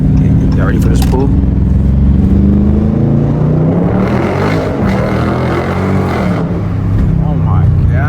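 A widebody Dodge Scat Pack pulls hard and downshifts at night, its loud engine roaring and rising in pitch, dropping at the downshift, then climbing again as it accelerates. Excited voices talk over it throughout.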